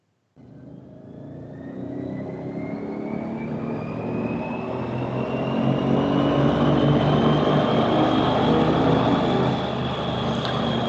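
A car engine on a dyno during a tuning pull, its revs climbing in a steady rising drone that holds loud and continuous before easing off as the run winds down.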